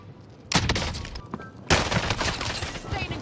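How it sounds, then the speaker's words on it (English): Two loud sniper rifle shots in the video game Warzone, each a sharp crack followed by a rolling echoing tail, spaced about a second apart with faint game noise underneath. "You just shot a big ass sniper rifle with the longest barrel in mankind."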